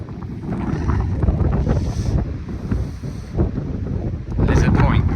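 Cold wind at Lizard Point on the coast roars and buffets the microphone in a loud, steady rush with surging gusts, while people talk under it.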